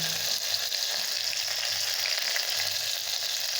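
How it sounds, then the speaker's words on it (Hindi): Garlic and chillies fry in hot oil with a loud, steady, close-up sizzle and crackle that continues without a break. "देखिए तेल गर्म हो चुका है। देखिए अब हम इसी में जो है लहसुन को ऐड करेंगे।"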